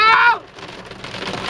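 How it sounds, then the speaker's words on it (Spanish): Hail pelting a car during a hurricane, heard from inside as a dense, steady patter on the roof and windshield, after a brief loud shout at the start. "¡Está granizando!"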